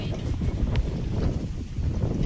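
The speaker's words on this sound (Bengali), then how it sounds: "গরমে খুব কষ্ট হচ্ছে তো, একটু হাওয়া দিয়ে দিল" Gusts of outdoor wind buffet the microphone beside an open-air clay stove while oil heats for malpua, a low rumbling, uneven rush, close and fairly loud.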